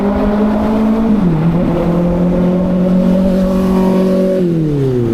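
A motorcycle revs past in Tustin traffic, its engine loud and close, pitch rising and dropping as it accelerates by over steady road noise.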